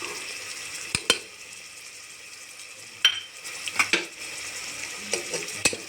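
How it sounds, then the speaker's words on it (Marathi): Spoon stirring garam masala, turmeric and salt into hot oil with tomato and ginger-garlic paste for a Khandeshi brinjal dish, giving a soft steady sizzle broken by several sharp scrapes and clinks against the pan. "हे पण छान असं हालून घ्यायचं तेलामध्ये हा मसाला होऊ द्यायचा"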